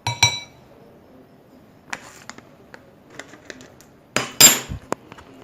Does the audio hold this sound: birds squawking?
no